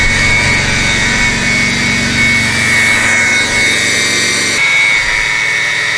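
A loud, steady mechanical whine and rattle from a running 2002 BMW 325i engine with a failing secondary air pump and no muffler, with a high-pitched droning tone that drops off abruptly near the end.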